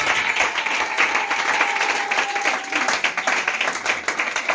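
A church congregation applauds to acclaim Jesus, dense steady clapping from a crowd filling the room, with a faint voice or tone running beneath the applause throughout.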